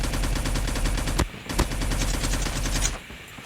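A DR-H assault rifle firing in a video game, loud sustained automatic bursts of rapid shots with one short break in the middle and the fire trailing off at the end.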